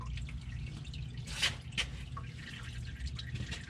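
Engine oil trickling and dripping steadily from a Dodge Cummins truck drain into a pan, a continuous liquid patter with a couple of sharper splashes over a low background rumble.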